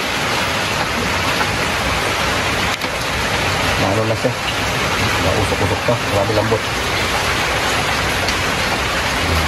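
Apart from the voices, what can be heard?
rain falling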